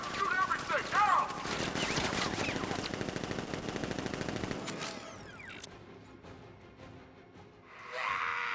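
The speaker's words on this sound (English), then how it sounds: "Open fire! Shoot everything! Now!" Automatic gunfire from a militia ambush in the video game Batman: Arkham Knight, dense rapid bursts for the first half, then sparse shots and game ambience, with voices briefly audible.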